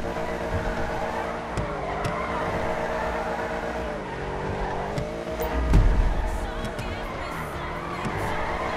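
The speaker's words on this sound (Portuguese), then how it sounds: "Dá pra poder segurar totalmente o drift aqui, velho." A car drifts in GTA 5 with a sustained engine whine and a long tire squeal that swells and fades, carrying through to a brief thump near the end.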